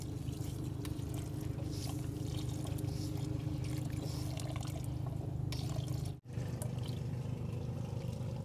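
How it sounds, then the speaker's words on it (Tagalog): Water pours steadily into a cooking pot outdoors in windy conditions, a continuous soft rushing trickle with one brief break near the end, with no talk over it. "Add po tayo ng tubig."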